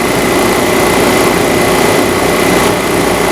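Refrigerant recovery machine running loud and steady nearby as its inlet opens, a constant high-pitched motor drone with a sustained tonal whine and no talking.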